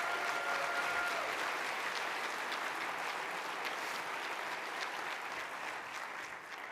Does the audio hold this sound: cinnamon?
no